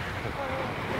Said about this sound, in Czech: Vlny, hezký.